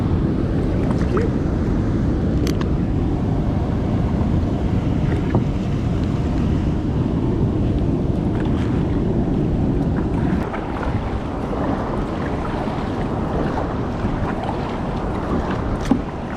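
Steady wind roars across the microphone while a boat is paddled against a headwind on the Brazos River, continuous and loud throughout with water sloshing beneath and no talking.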